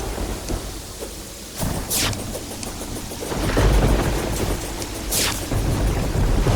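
A thunderstorm in Terraria with the Calamity Mod rumbles on as steady rain, broken by two sharp thunder cracks and a deep rolling boom that swells louder toward the end.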